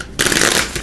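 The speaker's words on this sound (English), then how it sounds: "I'll give these a good shuffle" A deck of tarot cards being shuffled by hand, a dense riffling burst that starts abruptly after a brief quiet moment and continues steadily, close and fairly loud with no talking.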